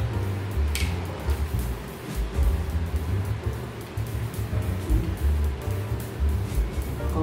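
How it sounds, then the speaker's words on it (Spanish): Sparkling water poured into a glass of berry syrup for an Italian soda, a steady rushing, fizzing pour that lasts the whole stretch with no voices. "Ahora le vamos a echar nuestra agüita gasificada."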